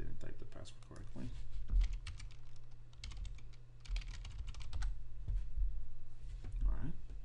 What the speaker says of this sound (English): I guess I didn't type the password correctly.